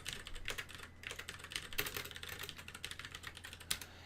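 Code is typed on a computer keyboard in a steady, quick patter of clicks with occasional heavier key strikes. The keystrokes are quiet and close, with no talking.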